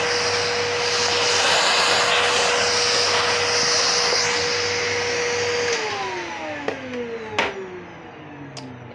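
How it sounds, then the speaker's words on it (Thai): A large, roughly twenty-year-old vacuum cleaner runs at close range while cleaning a household fan, giving a loud steady roar with a whining tone that drops in pitch toward the end, mixed with a few rubbing knocks. "เครื่องดูดฝุ่นดีมากเลยอ่ะ"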